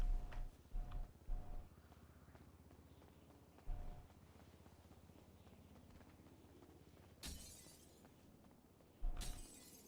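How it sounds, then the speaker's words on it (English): Glass smashing in the NoPixel GTA V roleplay game, two loud shattering crashes later on, preceded by several soft thuds and footsteps against a quiet background. "Literally just breaking glass."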